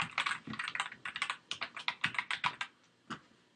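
Quick bursts of keystrokes on a computer keyboard as an email address is entered, close and fairly quiet, with short pauses between clusters and no talking.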